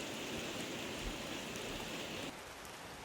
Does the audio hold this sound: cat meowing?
no